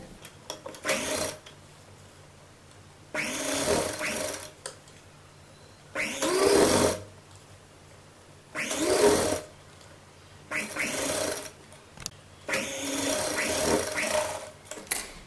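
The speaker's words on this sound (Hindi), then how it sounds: "एक बार और फोल्ड करिए और ग्रीन और गोल्डन के बीच में सिलाई लगाइए" A sewing machine stitches a seam between green and gold fabric for a kurta neck border, running in about six loud bursts separated by short pauses, with faint background hum between runs.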